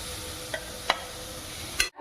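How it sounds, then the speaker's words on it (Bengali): Prawns fry lightly in a pan with a steady, close hiss of sizzling oil, broken by a few sharp clicks of stirring before a sudden stop. "এবার আমি চিংড়ি মাছগুলো হালকা ভেজে তুলে রাখছি।"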